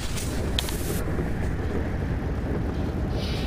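Storm wind roars steadily in FAR: Lone Sails, a dense continuous rushing noise throughout without speech.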